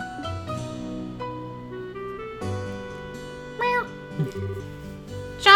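A cat meows in the Trails in the Sky FC video game, two or three short, clear mews over soft game music, with a louder, higher meow at the end.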